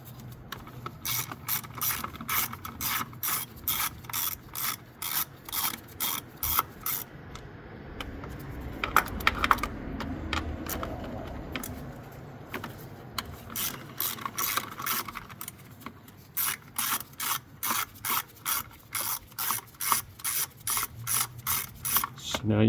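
A ratchet wrench loosening the ignition coil bolts on a Hyundai Accent with a misfire, giving rapid runs of sharp, even clicks close up, broken by a brief rubbing pause midway before the clicking resumes.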